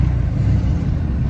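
A Duramax LBZ diesel pickup truck engine with 135,000 miles idles steadily with a low, rough diesel rumble, close by and continuous, with no voices.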